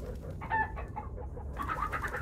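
Chickens cluck and squawk in the video game Minecraft Story Mode, a few close, throaty calls layered over a low steady background, with no talking.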